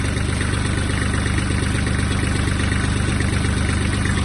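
A Kubota GL-320 Japanese mini tractor engine idles close by, a loud, steady, rumbling chug with an even beat and no speech over it.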